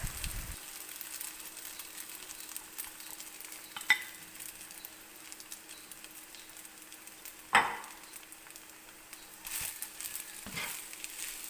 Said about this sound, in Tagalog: At ngayon ay ihalo na ang ating egg rice.